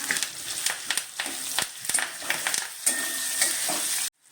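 Sliced onion, green chili and curry leaves frying with garlic in a pan, a close sizzle punctuated by stirring scrapes and clinks, cutting off abruptly at the end.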